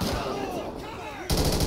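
Gunfire in GTA 5 during a police shootout at a station, a steady rattle of shots for over a second before a louder, denser burst at the end.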